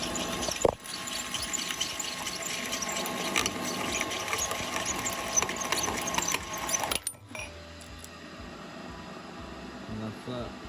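A hole saw cuts through 1-inch tube stock: a steady, loud grinding whine fills the first seven seconds, then cuts off abruptly as the saw breaks through, leaving a quieter mechanical hum.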